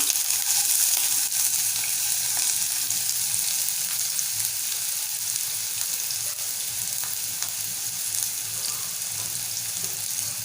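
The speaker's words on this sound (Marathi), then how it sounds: "या ठिकाणी आपण एक चमचा तेल गरम करून घेतलं आहे आता मीडियम आकाराचा कांदा जो बारीक चिरून घेतला आहे तो घालूया" Finely chopped medium onion sizzling in a spoonful of hot oil for a Malvani bitter gourd bhaji, a steady close crackling hiss with no talk over it.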